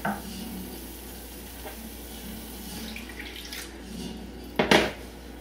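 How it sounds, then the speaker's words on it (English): Milk pours into a thick béchamel cream for Cuban ham croquetas, a steady soft liquid wash with faint stirring, then a brief louder splash and clatter near the end. "I'm going to add the rest of the milk"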